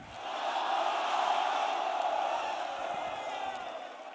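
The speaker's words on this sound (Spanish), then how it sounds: "Un aplauso para Skipper" Audience at a live freestyle rap battle exhibition in Mexico raises a sustained roar of cheering and applause, a broad steady crowd wash swelling slightly and holding throughout.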